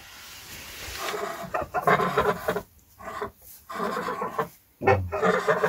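Two geese, one white and one grey, give repeated harsh, cackling calls at close range in uneven bursts separated by brief pauses.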